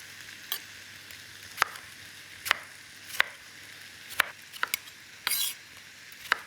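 Ordinary red tomatoes are roughly chopped with a knife, making about eight sharp, sparse thuds at uneven intervals against a steady faint hiss, close by with no talk.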